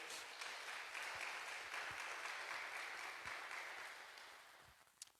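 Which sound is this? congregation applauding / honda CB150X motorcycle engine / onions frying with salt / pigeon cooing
congregation applauding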